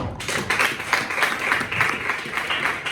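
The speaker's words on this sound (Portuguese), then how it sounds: "Quem entendeu, aplauda o Senhor." Steady applause from a church congregation, dense clapping that holds at an even level for a few seconds.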